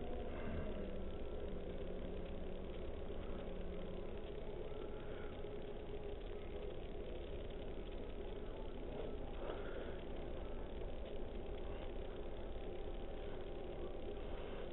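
The electric motor of an RC submarine runs at reduced power, a faint, steady mechanical hum with a low drone that holds constant throughout.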